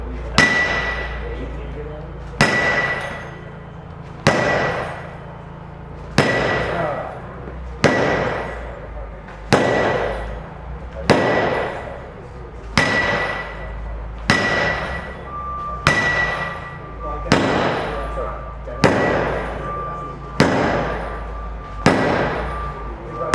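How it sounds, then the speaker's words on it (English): A hammer strikes School Guard security glass during a demonstration, about a dozen sharp, loud impacts at a steady pace of roughly two seconds apart, each ringing briefly before the next blow. "You need a bigger hammer?"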